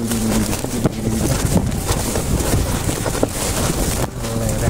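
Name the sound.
strong wind blowing at a mountain campsite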